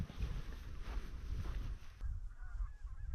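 A bird calls out at coastal sand dunes, giving a few honking cries against steady wind noise outdoors.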